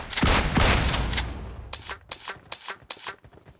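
Rapid gunfire in the mobile battle royale game PUBG Mobile, a dense burst of shots up front fading into a string of sharp, separated cracks at a steady rhythm, fairly close.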